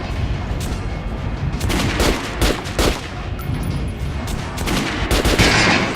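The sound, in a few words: gunshots at shooting range dummy, video game Metro Last Light Redux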